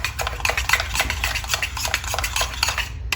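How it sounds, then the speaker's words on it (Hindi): A spoon stirs and mixes spices in a metal cooking pot, scraping and clinking close up in a quick, steady rhythm for several seconds with no talking. "अब इनको अच्छी तरह मिक्स कर देंगे।"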